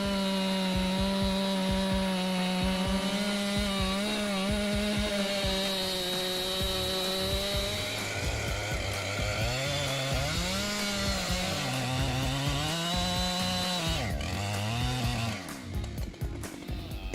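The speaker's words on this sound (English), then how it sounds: "Embark on a giant tree cutting adventure with the Husqvarna 592 XP." A Husqvarna 592 XP chainsaw with a 90 cm bar cuts through a huge tree, its engine holding a loud, steady high whine that bogs and rises as the chain bites, with no talking throughout.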